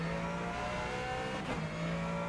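A hypercar engine in the Rennsport racing game drones at a steady high pitch with a brief shift in tone partway through, loud and close without any talk.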